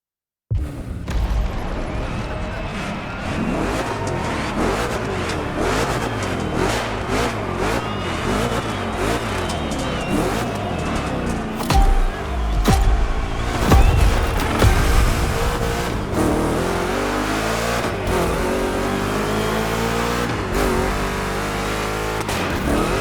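Chevy big block V8 racing in The Crew Motorfest gymkhana, a loud, continuous engine roaring and revving up and down through gear changes, with tire squeal and no talk.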